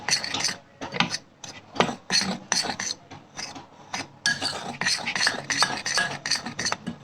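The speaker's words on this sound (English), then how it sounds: "Mix it nicely so that there are no lumps." A whisk or spoon scrapes and rasps against a bowl while batter with baking powder is mixed, giving repeated close, brisk strokes with short pauses and no talking.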